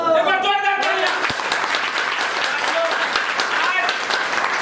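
Crowd applause at a business leaders' meeting, dense steady clapping filling the room after a brief voice at the start, with talk and cheering mixed in.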